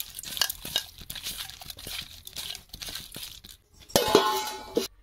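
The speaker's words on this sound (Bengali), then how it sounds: "চিংড়িতে নুন আর হলুদ মাখিয়ে নেব" Raw prawns being rubbed by hand with salt and turmeric in a bowl, soft wet squelching and crinkly rubbing in short bursts close up, with a louder clattering swirl near the end.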